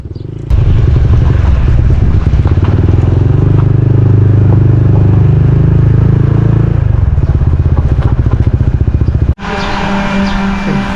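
A motorcycle being ridden on the road to a building project site in the Philippines, with a loud, close engine drone and road rumble that holds steady throughout, briefly cutting out near the end before resuming.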